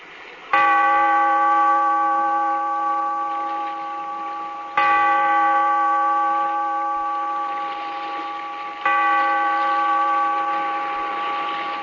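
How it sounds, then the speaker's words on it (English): A deep bell tolls three times, slow and evenly spaced, each strike ringing out with a long, sustained hum that fades before the next. "Bellkeeper, toll the bell"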